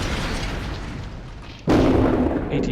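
A Bishop self-propelled gun fires a shot in a tank video game, a sudden loud boom cutting through steady engine rumble and lingering as a heavy roar.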